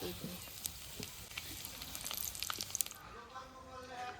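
Cumin, bay leaf and dried chili frying in a little oil: a close crackling sizzle with sharp pops that intensifies, then quiets to a softer hiss as a voice murmurs faintly underneath.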